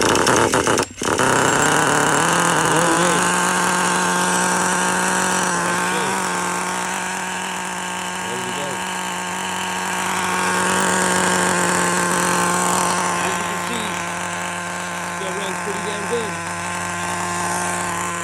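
A small high-pitched nitro engine in a Traxxas Rustler RC truck runs steadily with a buzzing whine, loud and close, its pitch wavering slightly as it idles and revs.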